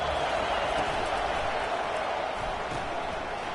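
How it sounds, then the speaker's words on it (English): Home crowd noise at a Memphis vs Pitt college football game, a steady, dense roar of many voices filling the stadium without letup, loud and continuous throughout. "this home crowd is fired up and ready to make a difference"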